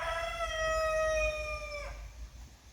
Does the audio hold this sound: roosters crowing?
yes